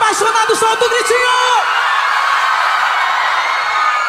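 Fans at a live forró concert scream and cheer in a loud, sustained roar, with a voice singing or calling over it at first before the crowd noise carries on alone.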